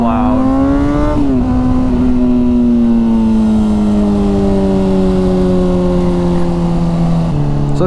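A loud 2012 Honda CBR600RR sport motorcycle engine, silencers still in the exhaust, revs up, then holds a steady, slowly falling drone, with a brief throttle blip near the end.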